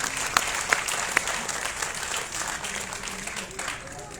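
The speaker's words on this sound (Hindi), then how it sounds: "तालियों से उनका स्वागत करें।" An audience at a school elocution contest claps to welcome a class 7 girl to the stage. The applause is steady and moderately distant, with a few sharper claps standing out early on before it gradually thins.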